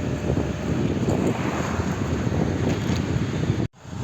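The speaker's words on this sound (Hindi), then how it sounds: "अभी थोड़ी थोड़ी हवा चल रही है" Wind blows at night outdoors, buffeting the microphone as a steady, rough rushing noise that fills the clip and then cuts out sharply near the end.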